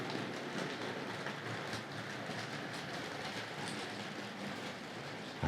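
A Tri-ang Hornby model train, the Princess Royal locomotive, runs steadily along the track with a continuous faint rolling clatter and light rhythmic clicking of wheels over rail joints.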